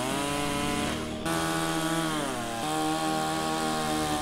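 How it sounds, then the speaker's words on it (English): A chainsaw cuts through mangrove wood during forest clearing in Guyana, its engine droning steadily and loud throughout, with the pitch dipping briefly as the chain bites and then rising again. No talking. "the mangrove with the chainsaw"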